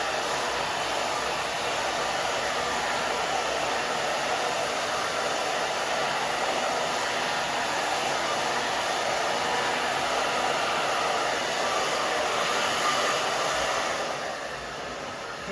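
A handheld hair dryer blows steadily on a low setting while drying a growing-out pixie cut, a close, continuous airy roar that holds for the whole stretch with no talk.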